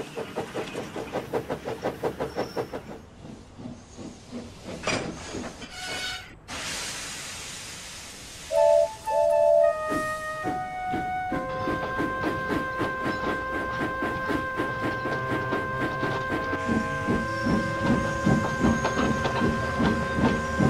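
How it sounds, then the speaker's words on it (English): Steam engine shunting coaches in a yard: rhythmic chuffing at first, then hissing steam, a couple of sharp whistle-like tones and sustained tonal ringing, fairly loud, with no talking. "Douglas offered to take away Gordon's coaches"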